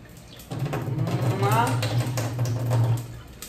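Water poured into a pressure cooker holding seven-grain brown rice, a close, steady trickling splash lasting a few seconds with someone talking over it.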